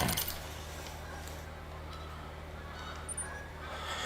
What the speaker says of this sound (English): You can hear them geese. They still coming in.